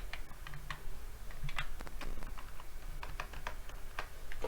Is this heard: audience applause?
no